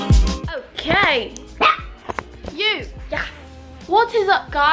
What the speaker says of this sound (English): She's barking at our freaking iron thing.